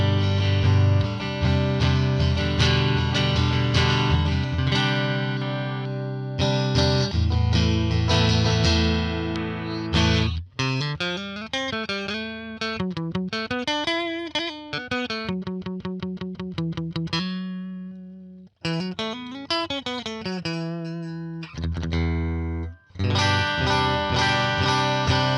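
Electric guitar through a modeled Fender Princeton amp on an Axe-Fx III, playing chords followed by single-note melodic lines with some vibrato, loud and close with no talking.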